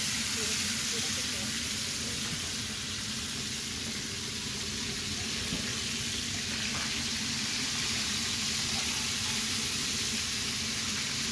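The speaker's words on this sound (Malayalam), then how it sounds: "മീൻ പൊരിക്കും" Fish frying in a pan, a dense continuous sizzle close by and fairly loud, steady throughout with faint speech underneath.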